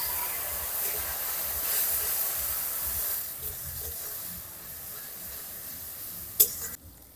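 Spiced masala for a mutton curry cooking in a clay pot with a splash of water, giving a steady soft sizzle and occasional stirring scrapes, then a sharp clatter near the end.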